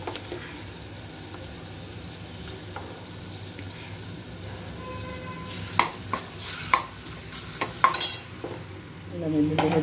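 Chopped onion, green chilies and ginger-garlic fry for a mushroom masala gravy, giving a faint, low sizzle. Sharper clatters of stirring and pan knocks cluster in the second half.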